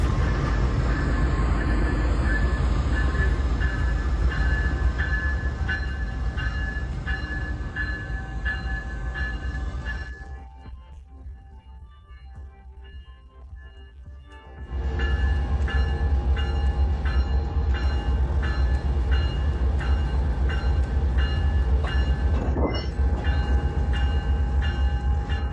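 An Amtrak locomotive moves off along the track and then reverses, with a loud steady diesel rumble and tonal engine whine, a brief quieter lull midway, then the engine revving back up close by.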